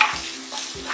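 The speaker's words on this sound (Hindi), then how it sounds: "इसके अंदर आप 1 टेबलस्पून लहसुन अदरक का पेस्ट डालेंगे। इसको हल्का सा ब्राउन होने दें" Garlic ginger paste sizzles with onions in a hot pan, with two quick scraping stirs cutting through the soft frying hiss.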